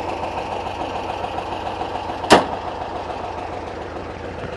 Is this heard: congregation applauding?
no